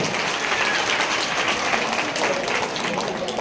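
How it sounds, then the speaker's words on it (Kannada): Dense, continuous applause from a large crowd of devotees at a school felicitation ceremony for a religious leader in Harakuda, sustained and loud throughout with no break. "ಎಲ್ಲಾ ಭಕ್ತಾದಿಗಳ ಕೈಯಿಂದ ತೀರಾದ ಚಪ್ಪಾಳೆ."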